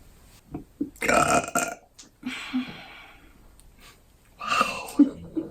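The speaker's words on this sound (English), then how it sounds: "Your catchphrase can be belching." A loud, drawn-out belch bursts out in two long swells, each several seconds long, with a short gap between them. A smaller burp follows, and faint breathing can be heard around the sounds.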